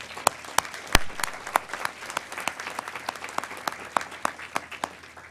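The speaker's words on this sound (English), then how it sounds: "I do want to also ask you, the graduates, to recognize and thank your families by applauding them." Graduates at a university commencement ceremony applaud their families, a sparse, uneven patter of individual claps from a large hall that builds into scattered bursts, with a few sharp louder claps standing out near the microphone.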